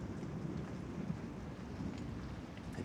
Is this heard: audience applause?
no